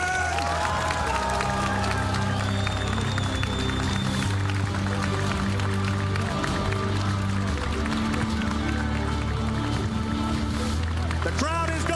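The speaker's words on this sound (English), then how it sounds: "The crowd is going wild, and for a very good reason." A large crowd at a Pokémon VGC championship event roars, cheers and applauds the newly crowned champion, dense and continuous throughout, with music and voices underneath.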